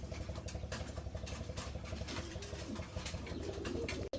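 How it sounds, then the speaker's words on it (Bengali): Fancy pigeons in a breeder's loft coo repeatedly in soft, low, throbbing calls, with a steady engine-like hum underneath and a brief dropout near the end. "যারা ভালো যে এক পেয়ার কবুতর পালতে চান এই পেয়ারটা নিতে পারেন।"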